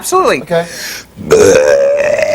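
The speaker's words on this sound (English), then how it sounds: "that belch. I love people that can do that on cue." A loud, long belch produced on cue by a guest on a talk show, a rough droning tone holding for over a second after brief speech at the start.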